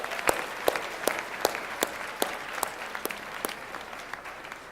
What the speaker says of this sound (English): So why don't you give yourself a round of applause.